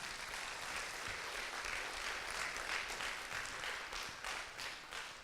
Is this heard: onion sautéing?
no